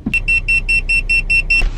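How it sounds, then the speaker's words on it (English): A vegan food truck's order pager buzzer goes off nearby, giving a rapid run of about nine identical electronic beeps in a steady rhythm. "They gave us the wrong buzzer."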